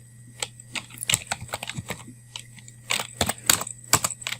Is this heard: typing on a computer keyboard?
yes